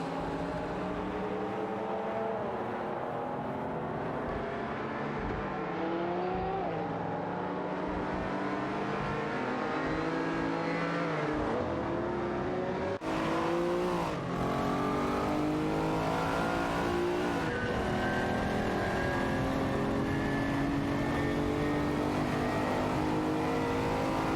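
Engines of a Ford RS200 and a Lamborghini Countach racing in a video game, a dense continuous roar of several cars revving and shifting up and down, loud and unbroken throughout with occasional tire squeal.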